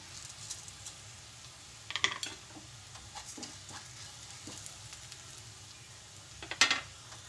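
Chopped onions fry in a pan with coriander seeds, giving a soft, steady sizzle with a couple of brief sharper crackles and stirring clinks.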